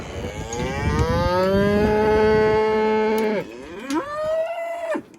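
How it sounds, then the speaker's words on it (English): Heifers and cattle on a small ranch give loud, drawn-out moos up close, one long bellow followed after a short pause by a second, rising call. "they're already a little fired up trying to ride one of the heifers that's in heat"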